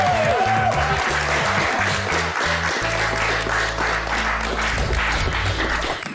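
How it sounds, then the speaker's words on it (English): Audience applause on a prank show, a dense, steady wash of clapping from a crowd, partly covered by loud music and some voices. "everyone a round of applause for Jack"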